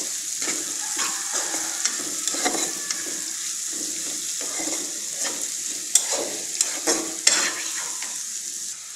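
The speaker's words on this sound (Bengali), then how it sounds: "পেঁয়াজটা ভালোভাবে ভেজে নিব।" Chopped onions frying in a pan for a broiler chicken bhuna, giving a steady close sizzle with scraping stir strokes and a few sharper clinks near the end; no one speaks.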